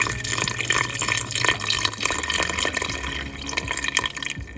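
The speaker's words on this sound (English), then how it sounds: "You can add water." Water pours and splashes into a cooking pot with a bubbling, gurgling rush that rises and dips irregularly, loud and close with no talking.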